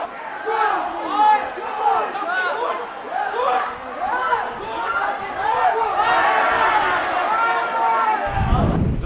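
Football fans of Regar-TadAZ chanting and shouting together in the stands during a Tajik league match against Eskhata, rhythmic, loud and close massed voices.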